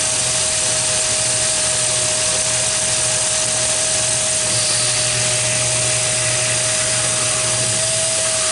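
A power tool trims a drill press part to length with a loud, continuous, steady whine and hiss, holding a sustained tone throughout with no pauses.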